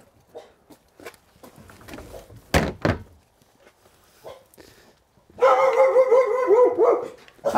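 Dogs bark in a loud, continuous burst close by during a police search around trash cans, after a scatter of thuds and bumps.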